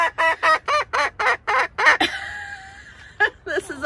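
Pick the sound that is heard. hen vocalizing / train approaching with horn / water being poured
hen vocalizing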